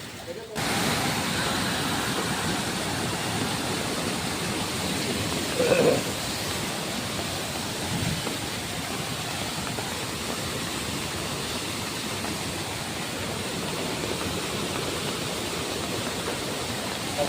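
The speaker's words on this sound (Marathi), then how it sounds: "हा एक जबरदस्त धबधबा आहे." Ainvahal waterfall near Roha roars continuously, a loud, unbroken rush of falling water filling the whole stretch.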